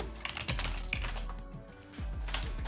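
Computer keyboard typing while coding a solitaire game engine, a close run of quick, uneven key clicks continuing steadily with brief pauses.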